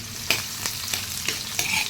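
Onion, garlic and pork being stirred in a hot pan, a steady sizzle broken by several scraping strokes of the spoon at a regular pace, close and clear with no talking.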